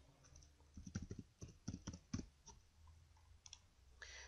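A computer mouse clicking during work in an Excel spreadsheet, a quiet, close run of small plastic clicks in quick irregular clusters, followed by a few sparse clicks, with no talking.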